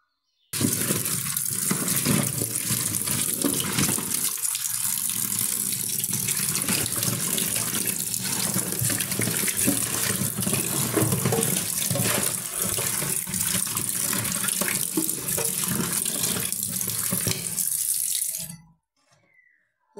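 Tap water gushes steadily into a sink while small puti fish are washed, a loud continuous close stream that cuts off abruptly near the end.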